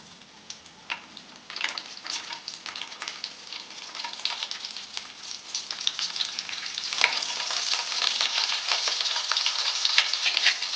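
Mustard seeds and green chillies frying in hot oil, a steady crackling sizzle with sharp pops that grows louder and denser toward the end, with no talking.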